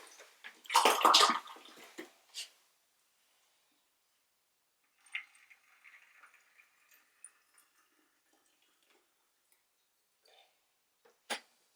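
Water splashes and washes indigo pigment down the walls of a container, a loud burst of pouring early on, then quieter dripping and trickling, ending with a sharp splash.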